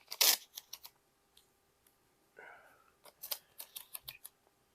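Scissors cut masking tape to size on a Fender Stratocaster fretboard. A few sharp, close snips are followed by a brief rasp of tape, then a quick series of clipped snips.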